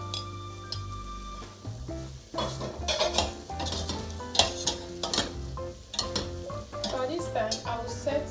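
Turkey pieces sizzle in a pan as a utensil stirs and scrapes them, with steady frying crackle under repeated clattering strokes, close and moderately loud.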